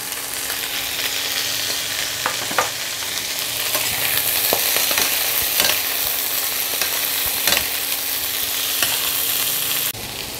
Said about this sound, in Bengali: সবজিগুলোর সাথে একটু ভাজা ভাজা হবে কাজুটা।